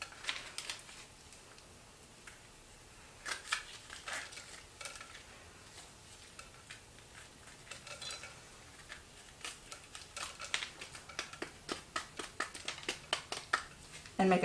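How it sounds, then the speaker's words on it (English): Spoon scraping and scooping the seeds and stringy membrane out of a halved butternut squash, giving scattered soft scrapes and clicks, close, with bursts growing busier toward the end. "So similar to the way you would de-seed a pumpkin, you're just going to get a spoon in there."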